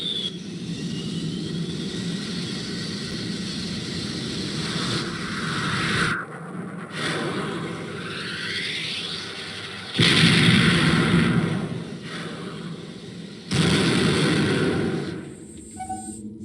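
Ground attack in the Command & Conquer video game, with a continuous rumble of artillery, gunfire and vehicle engines, broken by several loud explosive bursts and abrupt cuts.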